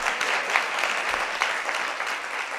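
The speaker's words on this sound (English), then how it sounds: "A round of applause for that" A school debate audience gives a brief, fairly soft round of applause, a short, even patter of many hands with a few louder claps poking through.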